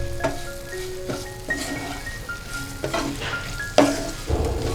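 Raw tomato and chili sambharo being stirred in a hot pan, a steady oil sizzle under repeated scraping strokes of a spoon against the metal, with a few sharper clanks toward the end.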